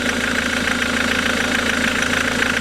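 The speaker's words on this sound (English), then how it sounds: "That sort of diesel bottom end knot is a bit concerning." A Ford Mondeo diesel engine idles after a bottom pulley change, with a bottom end knock. The steady, close mechanical drone has a fast rhythmic clatter and no voices.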